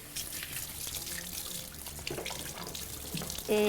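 Water runs steadily from a kitchen tap during hand washing, a close, continuous splashing hiss into the sink lasting throughout, growing slightly louder at the end, with no talk over it.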